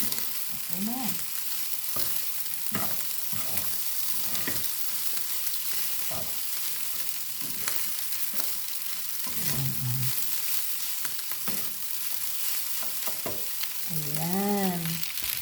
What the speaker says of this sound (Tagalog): Tapos, igigisa ko yung tuna.